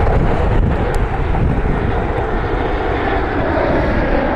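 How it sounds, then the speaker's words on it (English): A JetBlue airliner arriving from Boston during rainy plane spotting at Cleveland, its engines a steady broadband roar mixed with wind and rain noise, continuous and fairly loud with no talking. "JetBlue 641 inbound from Boston."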